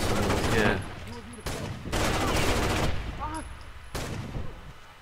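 Gunfire in the video game Rainbow Six Vegas 2 during a Terrorist Hunt match, with loud bursts of rapid automatic shots in separate volleys and a player voice talking between them.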